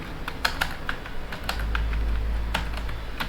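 Narration being typed on a computer keyboard into Tally accounting software, quick irregular key clicks close up, with a low steady hum underneath.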